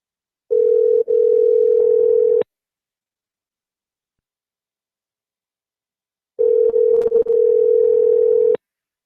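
Telephone ringing tone on a call that goes unanswered, a steady electronic tone in two long bursts of about two seconds each, separated by a long silent gap, loud and close with no talk over it.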